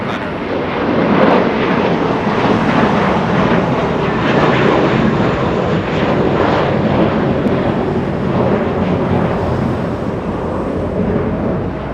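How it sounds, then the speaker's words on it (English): A Boeing 777 airliner touches down at LAX, a broad, loud and continuous rushing roar of engines and air that holds steady throughout, with no voices. "after the 777 touches down"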